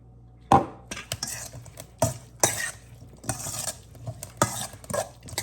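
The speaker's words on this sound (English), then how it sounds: "And mix it up." Vegetables and fresh corn salad stirred in a bowl with a utensil, giving repeated scraping clinks and soft wet tumbling in uneven strokes, close and fairly loud, with no talking.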